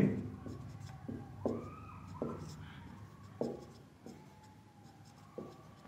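Pen writing an answer by hand on paper, a series of short, soft scratching strokes in an uneven rhythm, faint and close.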